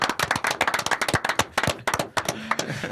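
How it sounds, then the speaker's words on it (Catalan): Applause for a technician on a Catalan Formula 1 show after a Brazilian Grand Prix: a short burst of sharp, rapid, close clapping with uneven rhythm and no talk over it. "aplaudiment."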